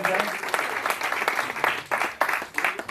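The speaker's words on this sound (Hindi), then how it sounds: "मैं चाहूंगा एक बार जोरदार ताली से माननीय राम बहादुर राय साहब का अभिनंदन कर" An audience at an award ceremony and book launch applauds, dense crackling clapping with uneven surges, steady for the whole stretch and fairly loud.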